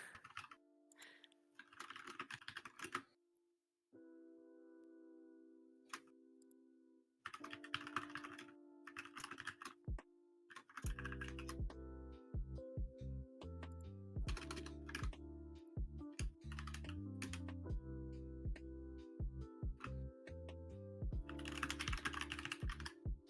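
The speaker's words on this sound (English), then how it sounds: "Aggressive typing." Rapid, forceful typing on a computer keyboard comes in bursts of sharp clacks, close and fairly loud, broken by pauses and mixed with sustained tonal game sounds in the background.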